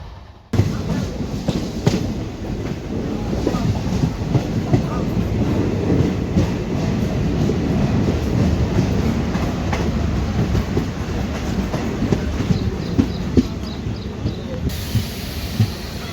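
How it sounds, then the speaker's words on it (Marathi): The 11411 Parli–Sangli DEMU Express rolls along the rails toward Latur, a loud, continuous rumble with rhythmic clickety-clack and hiss heard from on board, sustained throughout. "वडवळ या स्टेशनवर थांबत आपली गाडी लातूरच्या दिशेने निघाली आहे."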